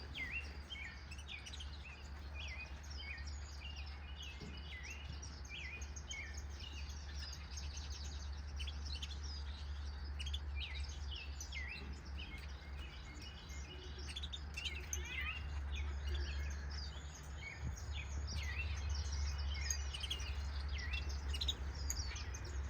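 Exotic finches chirp busily in an outdoor aviary, with many small overlapping tweets and calls running steadily throughout over a constant low background hum.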